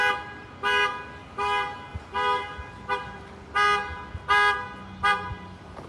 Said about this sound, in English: somebody's car alarm's going off right now